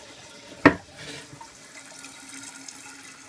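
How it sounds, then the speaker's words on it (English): Water runs steadily out of a malfunctioning toilet, a soft continuous trickle and gurgle after a sharp knock at the start, quiet and close in an indoor bathroom. "That is actually the water coming out of the toilet."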